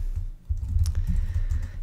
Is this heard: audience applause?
no